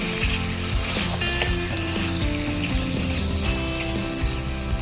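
Potatoes and carrots stirred into adobong chicken liver in a pan, with a steady close sizzle and frying hiss plus faint scraping and clinking of the spoon throughout.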